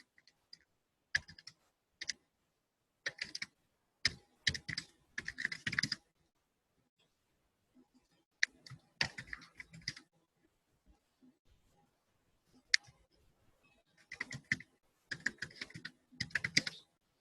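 Quick bursts of computer keyboard typing as a number is keyed in, clustered clicks separated by short pauses, close and clear in a quiet room.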